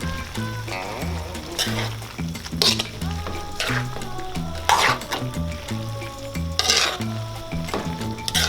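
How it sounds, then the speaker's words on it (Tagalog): Paklay, beef tripe with pepper and lemongrass, stirred in a sizzling pan, with repeated scraping strokes of a utensil against the pan over steady frying crackle, close up. "Yan, hahaluin lang po natin."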